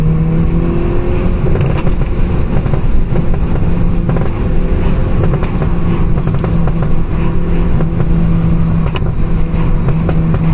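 Volkswagen Golf 6 GTI accelerating, its exhaust drone heard from inside the cabin as a steady, loud low rumble with wind and road noise throughout, no talking.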